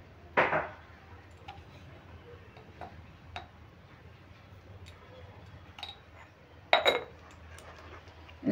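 Rice-flour batter with salt is stirred in a bowl for Bengali soru chakli pitha. Sparse, close clinks and taps of a utensil against the bowl sound over a quiet background, with two sharper knocks.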